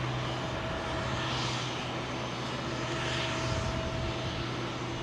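An Airbus A350 on Heathrow runway 27L gives a steady, broad roar with a low engine hum that holds at an even level for the whole stretch, heard from a distance with no voices.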